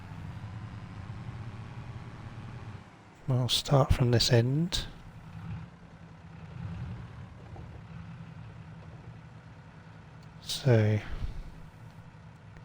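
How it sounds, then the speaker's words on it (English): A modern, high-horsepower tractor in Farming Simulator 22 idles steadily with a low engine drone. Someone talks over it in two short bursts. "This is the most modern tractor we've got and the highest horsepower tractor we've got"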